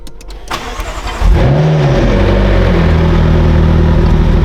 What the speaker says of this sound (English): Now we're going to crank it up and let it warm up to operating temperature.